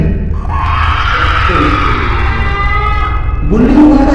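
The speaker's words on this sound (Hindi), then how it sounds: "तभी एक बार फिर से बाहर से चीखने चिल्लाने की आवाज आने लगती है।" Screaming and shouting drift in from outside in a Hindi cartoon, a loud strained cry that holds and wavers for several seconds before a fresh shriek breaks in near the end, with no talk over it.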